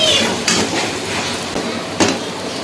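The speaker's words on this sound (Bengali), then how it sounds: "এবার এর মধ্যে দিয়ে দেবো সেদ্ধ করা চাউমিন তারপরে এটাকে ভালো করে ভাজবো" Boiled chowmein tossed in a wok with potatoes, peanuts and onion, brief metallic clanks of the spatula against the wok over a light frying hiss, close and loud.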